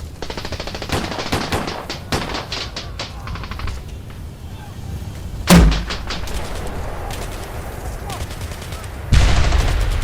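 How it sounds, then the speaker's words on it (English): Vietnam War jungle ambush gunfire in the 1966 Highlands fighting: rapid bursts of automatic fire and single shots crackle close and loud, followed by heavy thumps and sustained firing. "Fire is returned immediately and the engagement escalates within seconds"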